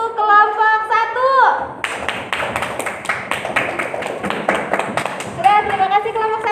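A classroom audience claps for the first student group after its presentation, a burst of dense, even applause lasting several seconds, with a teacher's voice talking before and after it.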